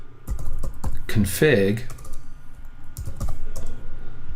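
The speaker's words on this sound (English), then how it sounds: "if I once again run a terminal and type ifconfig" Typing the ifconfig command on a computer keyboard in a CentOS 7 Linux terminal: a quick run of close key clicks and taps, with a voice talking over part of it.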